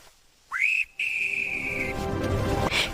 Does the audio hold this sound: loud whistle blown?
yes